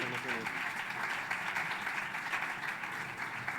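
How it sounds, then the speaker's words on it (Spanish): Audience applause for a panel introduction at the EdTech Congress, a dense, steady wash of many hands clapping that holds evenly at moderate loudness throughout, with faint voices mixed in. "Un fuerte aplauso para él."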